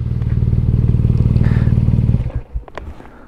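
A 2018 BMW R nineT motorcycle engine idles with a deep, pulsing exhaust rumble, then cuts out abruptly at the kill switch, leaving a few clicks and rattles.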